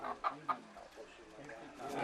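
A chicken clucks just before an Ifugao harvest ritual sacrifice in the Philippine highlands. Two short, sharp clucks stand out near the start, then softer bird sounds continue over faint background murmur.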